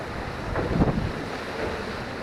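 Sea waves below the Pamban railway bridge, a broad steady wash of surf blended with wind rumble, with a brief swell midway and no voices.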